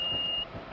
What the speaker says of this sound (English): That was a speed alarm for something